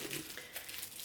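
Bag stuffing is pulled out of a new Alexander Wang Rockie bag with faint, brief crinkling and rustling of paper or plastic, quiet and close, with no voices.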